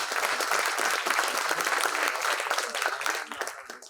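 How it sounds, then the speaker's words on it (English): Audience applause at an HR conclave on AI and talent management, a steady dense clapping from a large seated crowd that holds for several seconds before starting to thin toward the end. "Let's give him a huge round of applause"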